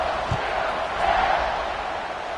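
Football stadium crowd at a college game kickoff, a broad steady roar of many voices with a slight swell midway, filling the whole short stretch without a break.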